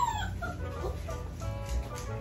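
A puppy whimpering close by in thin high whines, while a rooster or chickens cluck faintly in the background.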